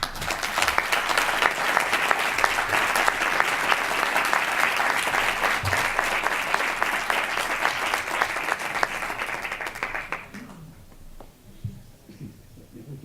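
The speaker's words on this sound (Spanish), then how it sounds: "para la que pido un fuerte aplauso" Loud, sustained audience applause from a crowd at a literary event, a dense wash of clapping lasting about ten seconds before it fades out to near quiet.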